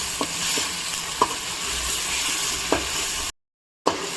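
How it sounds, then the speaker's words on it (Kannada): Ginger garlic paste sizzling with mutton in a hot pan, a steady frying hiss broken by a few sharp stirring scrapes of the spoon, close and with no voices. "ಶುಂಠಿ ಬೆಳ್ಳುಳ್ಳಿ ಪೇಸ್ಟ್ ಹಾಕ್ಕೋತಾ ಇದ್ದೀನಿ."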